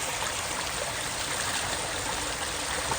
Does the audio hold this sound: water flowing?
yes